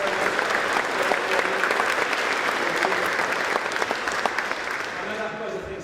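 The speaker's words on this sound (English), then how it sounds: "Another round of applause for the University of Dundee." A crowd at a newsHACK demo and prize session applauds the University of Dundee team, a close, lively burst of clapping that tapers gradually, with some voices mixed in.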